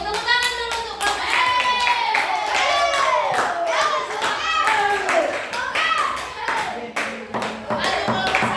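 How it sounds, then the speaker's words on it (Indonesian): A classroom audience claps for a student group, with brisk, fairly loud clapping mixed with children's voices talking and calling out over it. "Tepuk tangan dulu untuk kelompok."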